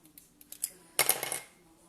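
Scissors cut paper for a mini album, with a few light clicks followed by a brief burst of crisp snipping and rustling, close and quiet.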